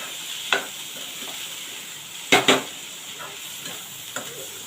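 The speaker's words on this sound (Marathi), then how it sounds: "परतून घेऊया आपण" Ridge gourd vegetable sautéing in a pan, a soft steady sizzle with a few sharp spatula scrapes and knocks, one pair close together midway.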